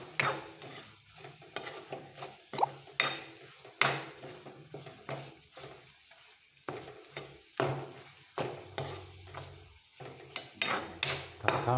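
Eggs and tomato stirred in a frying pan, a spatula scraping and clattering against the metal in an irregular rhythm over a low sizzle, close and fairly quiet with no talking.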